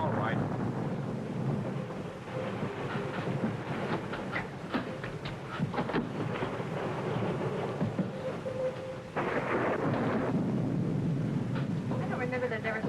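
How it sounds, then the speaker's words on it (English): Steady roaring wind and rain noise, dense and continuous, with a rumbling vehicle-like drone underneath and a louder gust near the end. "that's rain, Dad, and it's coming in."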